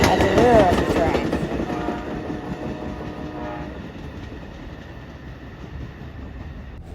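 Passenger train passing on rails, an Amtrak-style consist with an extra diner car at the rear; a brief horn blast up front gives way to steady, fairly loud rumbling wheels and clatter that gradually recedes.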